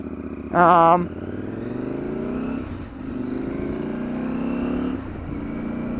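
A 2022 KTM 890 Adventure R, a heavy adventure motorcycle, being ridden. The engine drones steadily and rises and falls with throttle changes, and a short loud burst comes near the start.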